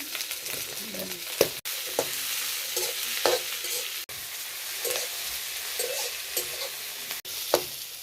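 Onions frying in a pan on a small clay stove, a steady crackling sizzle with scattered spoon scrapes and stirring knocks, close and continuous.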